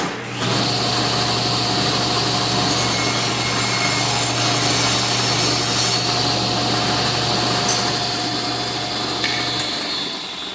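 A power saw cuts a thin groove in wood for a bee escape, a continuous close, loud rasping whine that holds steady for about ten seconds with no speech.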